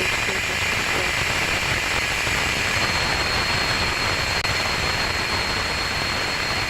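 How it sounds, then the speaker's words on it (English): Rocket Lab Electron second-stage Rutherford engine firing just after stage separation on a launch from New Zealand, heard as a steady, loud broadband roar with a constant hiss, continuous and alone throughout. "That is a healthy Rutherford engine startup on the second stage now that we are clear of first stage MECO and stage separation"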